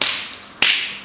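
An iPoster Easysnap plastic poster hanger snapping shut: two sharp, loud clicks about half a second apart, each followed by a brief hiss-like decay, with no talking.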